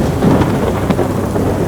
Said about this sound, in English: a heavy rainstorm hit us out of nowhere